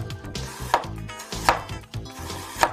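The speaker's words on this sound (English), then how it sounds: "cut some ginger and garlic" Ginger and garlic being cut on a board for a Sichuan hot pot broth, three sharp knife chops landing at a steady spaced rhythm, close and fairly loud, with faint kitchen clatter around them and no talking.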